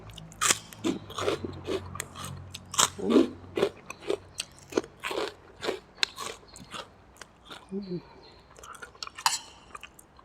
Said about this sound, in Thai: นี่แคปมันฝรั่งกรอบๆเลย ไปกินกันเลย